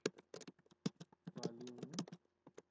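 Someone types code on a computer keyboard, close, crisp keystrokes in uneven bursts with a brief thudding flurry near the middle, no voices.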